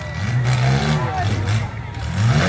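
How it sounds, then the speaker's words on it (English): Misfiring front-wheel-drive car engine revving hard at a county fair demolition derby, a loud continuous rough roar rising and falling, with crowd noise and voices underneath. "He's misfiring, he's done."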